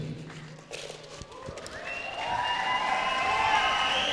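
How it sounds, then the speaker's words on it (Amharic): A church congregation claps together in a short burst of applause, then the hall fills with rising sustained voices or music that grows louder. "ጉባኤ ለጌታ ክብር ጭብጨባ"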